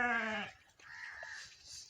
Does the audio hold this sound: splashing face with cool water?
no